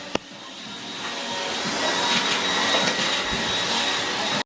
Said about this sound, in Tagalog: Hindi ko alam kung maririnig niyo ako kasi si Jan ang nagba-vacuum